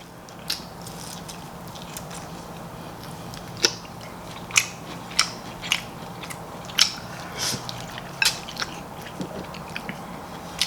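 Close, wet biting and chewing on thick cubes of salted top sirloin steak coated in oyster and black bean sauce, with a dozen sharp crunchy bites over a steady low background.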